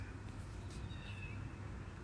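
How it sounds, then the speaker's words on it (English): A domestic cat meows outdoors, a faint rising call heard once or twice over steady low background rumble. "My cat outside being ridiculous."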